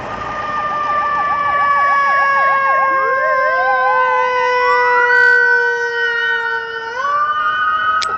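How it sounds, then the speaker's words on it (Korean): An ambulance siren wails loudly and steadily, shifting between fast yelp and slower wail patterns as it passes close by, its pitch sliding near the end. "구급차는 양보를 해줘야죠."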